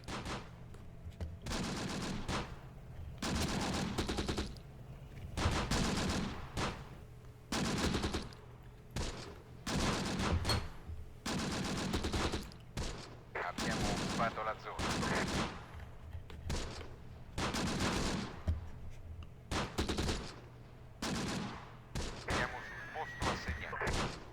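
Repeated bursts of machine gun fire in the wartime strategy game Close Combat, dense overlapping volleys that keep coming in short rhythmic strings, moderately quiet overall.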